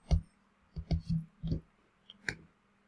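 Keys tapped on a computer keyboard while coding in Java: a few soft clicks with short gaps, the last sharper press sounding like the enter key, close and quiet, with no voice.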